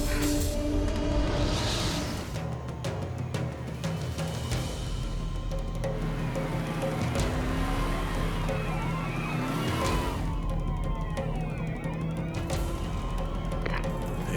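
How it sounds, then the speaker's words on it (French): Police car sirens wail and sweep up and down, moderately far off, over a steady low rumble of traffic. They continue without letting up, and there is no clear speech. "Éteignez les gyros et les sirènes."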